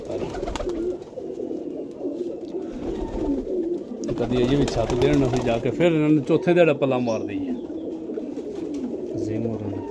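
Pigeons coo steadily in a bird house, with low repeated calls running throughout while someone talks over them.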